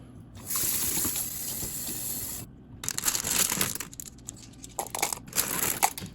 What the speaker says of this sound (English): Washed out my barrel, cleaned it really well.